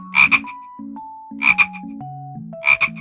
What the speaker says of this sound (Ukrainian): а жабка квакає.